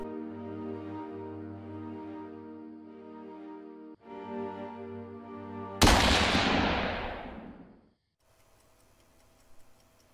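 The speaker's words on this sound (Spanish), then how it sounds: "¿Qué pasa si disparo al fantasma?" In a video game, after a sustained tonal drone, a single loud gunshot blasts and rings out into a decaying echo before near silence.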